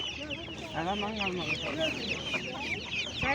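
Chicks cluck and chirp together in a busy, continuous chatter at a poultry market in Sungurlu, Çorum, Turkey, with a faint murmur of people in the background.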